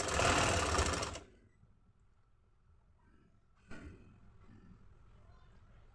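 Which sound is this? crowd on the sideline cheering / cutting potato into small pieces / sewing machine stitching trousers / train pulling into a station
sewing machine stitching trousers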